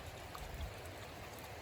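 Water flowing into a natural cistern, a faint, steady trickling rush of inflow, alone with no voices.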